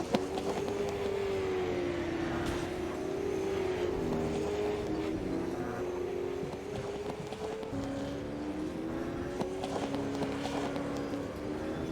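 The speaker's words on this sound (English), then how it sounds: "Coming down, it's a 6th gear, flat out, hard on the brakes through this chicane." V8 Supercars racing flat out down a front straight, a continuous loud engine drone with a wavering pitch that rises and falls as the cars pass, steady throughout without a break.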